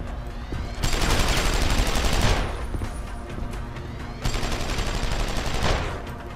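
Bursts of rapid gunfire in Deus Ex: Human Revolution, loud and dense, two long volleys with a brief lull between them and no speech.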